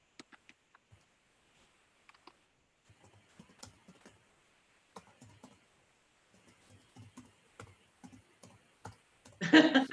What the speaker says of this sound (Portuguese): Ouço um teclado de alguém.